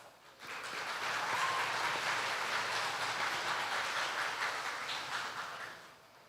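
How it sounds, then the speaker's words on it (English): An audience at the Choctaw Nation Princess Pageant breaks into applause, a sustained wash of clapping that swells quickly, holds steady for several seconds, then fades away. "So let's give all our Choctaw Hushki and Pukni a round of applause"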